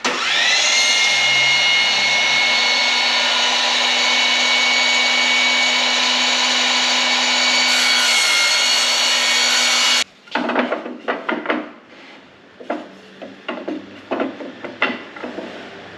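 A table saw slices a wooden crosscut sled piece in half, a loud steady whine holding for about ten seconds before the blade cuts off, followed by scattered knocks and handling clatter.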